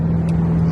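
Car cruising on the interstate, a steady low engine drone and road hum heard from inside the cabin, with a brief soft click partway through.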